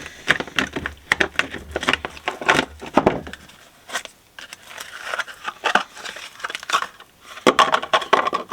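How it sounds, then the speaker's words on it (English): Repeated crunchy snips and cuts sound close up in irregular bursts as scissors cut apart taxidermy mold material, pausing briefly before resuming. "We're just going to take a pair of scissors"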